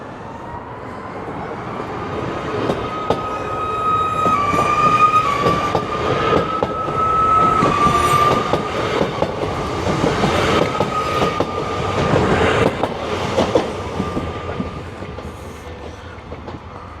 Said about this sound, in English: So this is the train we're going to get